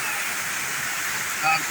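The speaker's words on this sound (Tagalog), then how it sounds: "ang tubig po galing sa kalsada" Floodwater pours in from the road into a deep, flooded residential area, a steady broadband rush of flowing water throughout, with a slightly louder surge near the end.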